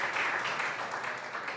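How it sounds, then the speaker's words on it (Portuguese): Audience applause for a trio of speakers at a literary panel, a steady wash of many hands clapping at moderate volume, with no talk over it. "aplauso aí para esse trio"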